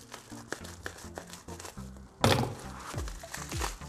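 Packaging for a Huawei P20 Pro phone being unboxed, with bubble wrap handled: scattered thunks, crinkles and rustles close by, ending in a louder burst of crumpling and a few soft knocks.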